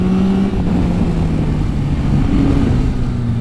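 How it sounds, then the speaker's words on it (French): A steady, throaty rumble from the three-cylinder CP3 engine of a 2023 Yamaha Tracer 9 GT+ motorcycle holds close and loud throughout, with a faint rise in revs partway through and no talking. "je vous laisse écouter le grondement du bloc CP3"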